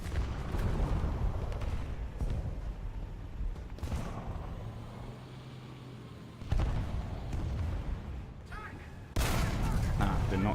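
A tank fires its main gun while moving in a video game, with booming shots and rumbling blasts over steady engine noise. A loud burst comes near the middle and another heavy blast near the end.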